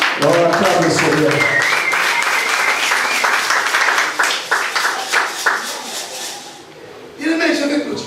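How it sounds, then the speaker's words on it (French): Church congregation cheering and clapping for the Lord during a worship service, loud sustained applause with voices mixed in, easing off before a speaking voice returns. "donnez-lui des acclamations on acclame le Seigneur."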